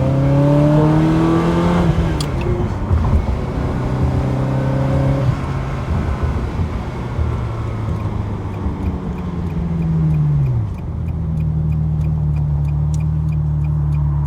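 Ferrari 360 V8 engine revving hard while driving, climbing toward 8,500 RPM in rising sweeps with gear changes, loud and close throughout with steady road roar beneath.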